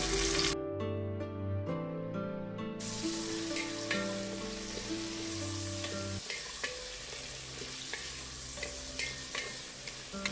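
Coconut pieces, whole shallots and curry leaves frying in oil for a beef dish: a steady sizzle with occasional stirring scrapes, heard beneath sustained background music.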